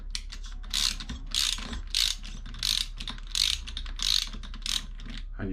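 A spanner working the top nut of a Honda CBR600F4 motorcycle fork during fork seal replacement, giving repeated ratchet-like clicking bursts in a steady rhythm, about eight strokes, close and clear with no talk.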